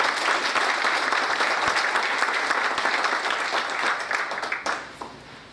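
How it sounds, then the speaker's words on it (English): A conference audience at a chamber of commerce event applauds the board of directors. The clapping is dense and sustained, then thins out near the end into a few scattered claps and fades. "I think they deserve a round of applause"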